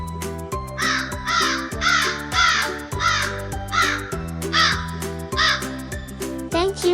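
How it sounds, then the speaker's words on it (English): Repeated crow caws sound loud and close in a steady series over a bright, melodic children's music backing that runs through the whole stretch. "crow."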